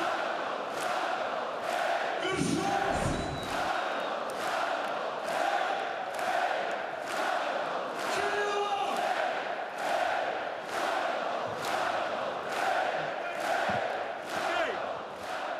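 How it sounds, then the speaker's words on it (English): A basketball crowd roars at Zalgirio Arena in Kaunas during a EuroLeague game between Zalgiris and Crvena Zvezda, a loud, steady wall of cheering with rhythmic surges and bursts of shouting throughout. "the crowd dialing up the decibel level here at the Zalgirio Arena"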